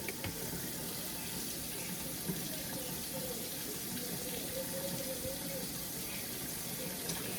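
Running tap water splashes steadily into a kitchen sink while raw pepper steak meat is rinsed under it, a continuous close-up flow with faint handling sounds and no talking.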